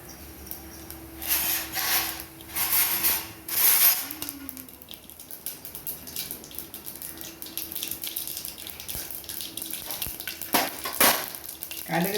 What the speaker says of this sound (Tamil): கடுகு சீரகம் நல்லா பொரிஞ்ச உடனே